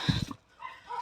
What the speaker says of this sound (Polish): Zawsze ten sąsiad jedzie, to te psy to tak ujadają